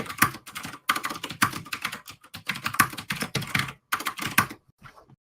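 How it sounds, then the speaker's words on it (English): Rapid keystrokes rattle on a computer keyboard in dense bursts with short breaks, close and clear, stopping abruptly near the end. "Typing intensifies."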